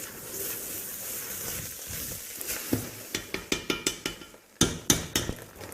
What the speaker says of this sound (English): So now let's cook the meat with the tomato paste.